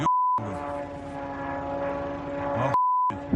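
A military drone flies over Ukraine during an air attack, giving a steady, droning engine hum with harmonic buzz that holds at a constant level. Brief beeps come at the start and near the end.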